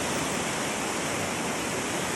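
Steady, loud rushing of a river in the rainforest valley between Quinault Lake and Enchanted Valley, a continuous broadband roar with no voices over it.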